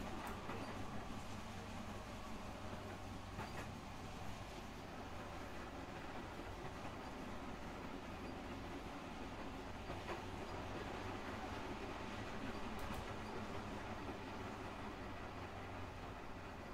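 A train in the video game Promesa clatters along steadily, a continuous rolling rumble with rhythmic clickety-clack and occasional faint metallic pings, fairly quiet throughout.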